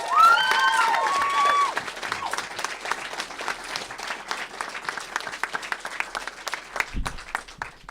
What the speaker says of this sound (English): Round of applause. Well done, guys.